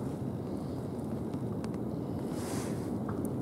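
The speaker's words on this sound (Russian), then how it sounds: "слышу прям ветер конкретный" Wind gusts over open water near an island, a steady broadband roar with a brief swell in intensity, heard alone without talk.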